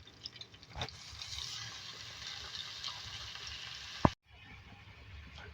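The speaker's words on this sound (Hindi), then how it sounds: "अब इसमें हम पालक डाल देंगे।" Spinach goes into a frying pan of aloo palak, bringing a soft, low sizzle that simmers along quietly, broken near the end by a single sharp clack before the frying continues.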